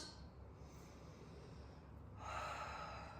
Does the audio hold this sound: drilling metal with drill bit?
no